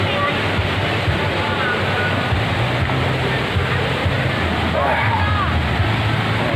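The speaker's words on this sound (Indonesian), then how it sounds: "ini dia curugnya. Salah satu jeramnya." Rapids at Curug Pandai waterfall rush in a loud, steady roar of churning water, close and unbroken, with a few faint voices in the background.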